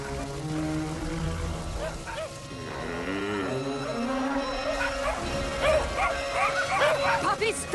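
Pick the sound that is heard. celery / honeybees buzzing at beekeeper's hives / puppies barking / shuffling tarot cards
puppies barking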